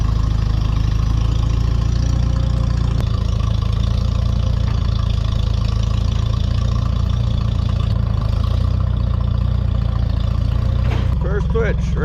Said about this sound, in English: we're twitching wood with an old 1952 Farmall. It's a Farmall H.